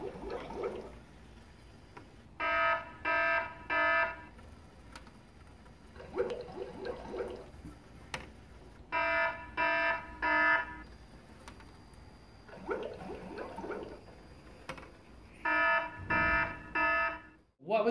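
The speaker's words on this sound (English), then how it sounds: "When the bad water comes, it makes an alarm sound." A Lego robotics water-testing model made by children sounds an electronic alarm in bursts of rapid repeated beeps, four groups spaced a few seconds apart, with chatter from people in between.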